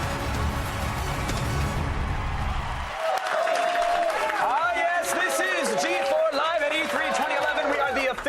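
Studio audience at an E3 2011 broadcast bursts into loud, sustained applause with cheering and whoops, a dense wall of clapping from the start, joined partway through by shouting and chatter from the crowd.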